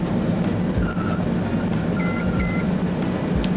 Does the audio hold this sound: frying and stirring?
no